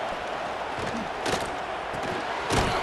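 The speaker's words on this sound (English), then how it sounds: "Listen to the crowd energy here in the early going. This is a tough environment for visitors." Stadium crowd noise from EA Sports College Football 26, a steady broad roar of fans with two brief louder swells of cheering, heard alone without commentary.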